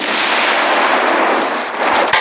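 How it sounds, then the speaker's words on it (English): Rocket fire in a sandbox video game, a dense continuous blast-like roar held at high level for about two seconds, with a sharper burst near the end and no talk over it. "I'm gonna shoot rockets at you because you won't wait for me"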